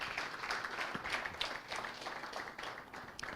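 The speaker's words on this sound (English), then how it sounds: "Ex-international Waidi Akoni, a round of applause for him, please." An audience at an anniversary lecture in Nigeria gives a round of applause for ex-international Waidi Akoni, a brisk crowd of clapping hands that holds steady throughout.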